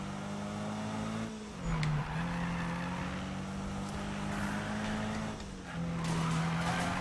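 Tires squeal steadily as a car drifts in Need for Speed (2015), a sustained engine drone and screech running through two long slides, briefly broken around the two-second and six-second marks, with no voices.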